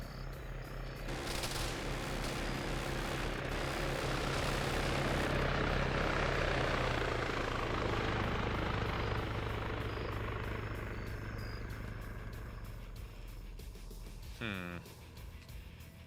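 A Little Bird helicopter flies in a video game, its rotor and engine roar swelling loud and close, holding, then fading toward the end. A brief tonal sweep sounds near the end, and faint talk is heard.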